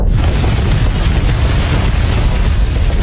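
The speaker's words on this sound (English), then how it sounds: "The violent shockwave from the explosion left his head spinning." A remote-detonated bomb goes off in a hotel lobby in a film action scene, heard as a loud, sustained, close roaring blast with a deep rumble filling the whole moment.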